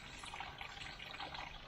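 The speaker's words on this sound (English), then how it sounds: "It certainly sprays the water out well." Defenders Jet Spray garden protector sending out water in a soft, steady hissing spatter with slight fluttering pulses, faint and continuous for under two seconds.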